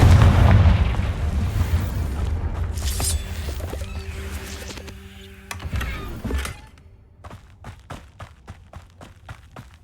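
Confringo blasting spells going off in the Hogwarts Legacy video game: heavy booming explosions rolling out early, fading into a tail, then a rapid series of sharp cracking impacts near the end, with no talk.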